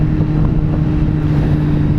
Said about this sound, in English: It is windy as, well, you know the word.